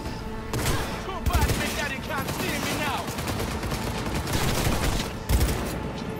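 Gunfire from a handgun in the Cyberpunk 2077 video game, dense overlapping shots and bursts that run nearly nonstop. Louder blasts land near the start and close to the end, with game noise all around.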